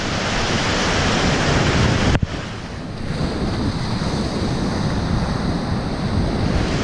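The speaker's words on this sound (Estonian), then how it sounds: "Lained mingid kõige väiksemad ei ole." Stormy sea at Paldiski, a loud, dense roar of crashing waves and surf with heavy wind buffeting the microphone, one sharp knock partway, then steady rushing water.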